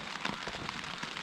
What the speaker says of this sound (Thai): ฝนก็ยัง ไม่หยุดนะผม ก็ตกเหมือนเดิมนะฮะ